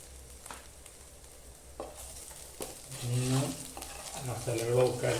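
Ginger and garlic frying in oil in a pan, a soft low sizzle with a few stirring scrapes, partly under a voice talking in the second half.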